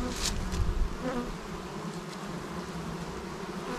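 A healthy colony of honeybees buzzes at an open hive, giving a steady, dense drone of many wings close by with no talking over it.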